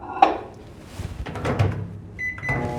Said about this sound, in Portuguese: eu vou colocar aqui no micro-ondas, tá? Essa água para aquecer.